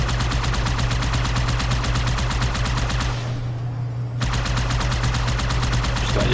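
Sustained rapid gunfire in the video game Halo 2, a dense continuous rattle of shots with a steady low hum, briefly pausing for about a second mid-way.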